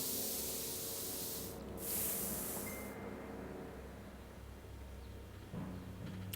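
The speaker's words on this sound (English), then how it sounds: "giving me the advice of spraying it on the plank" A spray can hisses onto a wooden plank in Back to the Future: The Game, one bright burst of about a second over a quiet, humming background.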